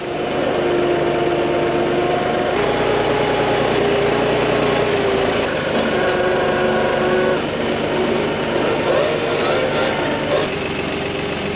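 A tractor engine idles steadily throughout, a continuous low rumble with a humming drone, close by and fairly loud, with faint shifts in pitch along the way.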